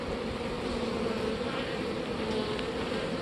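Honey bees swarming around a hive during queen grafting, a dense, steady buzzing that is continuous and moderately loud, with no voices.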